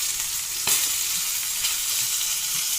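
Chopped garlic leaves fry in a pan with a steady close hiss and sizzle, one sharp stir or scrape early on and no voices.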